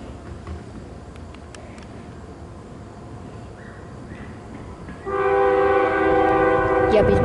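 A CN freight train's horn blows at a road crossing in Wyandotte, Michigan, bursting in loud and sustained after several seconds of distant outdoor rumble.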